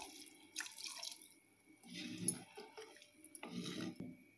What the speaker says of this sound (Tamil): இப்போ இந்த கோழி வேகிறதுக்கு தேவையான அளவு தண்ணி விட்டுடலாங்க